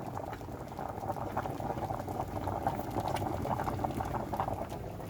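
Potatoes boiling in a pot of water for mashed potatoes on a stove set to low, a steady close rolling bubble and patter that runs without a break.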